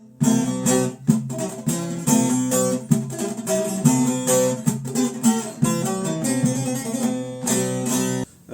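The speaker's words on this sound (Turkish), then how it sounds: "Üç bağlama arkadaşlar çok rahat bir şekilde çalınabiliyor." A bağlama saz plays a lively, rhythmic melody with rapid strums and bright ringing strings, steady and close throughout, no voices.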